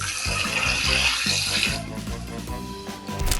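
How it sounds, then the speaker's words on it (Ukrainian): Water gushes steadily from a tap in a home where the supply has turned discolored, a continuous rushing splash that stays loud throughout, with some music-like tones running underneath. "Зате тепер з крану одразу і вода, і компот."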